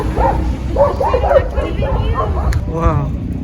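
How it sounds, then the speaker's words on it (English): A large pack of street dogs in Cusco, Peru, barks and yips in short bursts across the whole stretch, fairly close and loud, with people talking over the noise. "That's the biggest herd of dogs we've seen."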